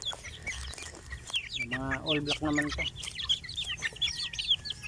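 Chickens on a farm cluck and chirp near the listener, with repeated short clucks and high peeps scattered throughout, while a person talks over them in a quiet voice.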